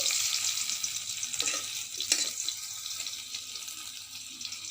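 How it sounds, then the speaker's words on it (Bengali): Potatoes fry in oil in a black wok over a wood-fired stove, giving a steady, moderately quiet sizzle with a few faint clinks and scrapes and no voices. "আলুগুলো একটু ভেজে নিচ্ছি।"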